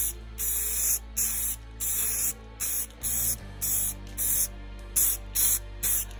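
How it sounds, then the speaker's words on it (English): Crystal clear coating sprayed from an aerosol can onto a freshly cut honeycomb resin blank, about a dozen short hissing bursts in a regular rhythm, close and loud. "I like to spray them down with a little crystal clear after I cut them"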